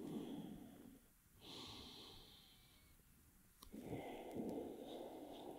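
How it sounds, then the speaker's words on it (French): Slow, calm breathing during a yoga session, close and soft: a long airy exhale, a pause, a gentle inhale, then another long exhale, heard alone without talk. "on se laisse bercer par le bruit de notre respiration"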